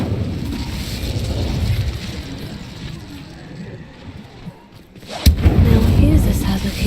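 A fiery spell blast in Hogwarts Legacy, a sudden loud burst at the five-second mark that swells into a roaring, rumbling fire, following a murmur of ambient game sound.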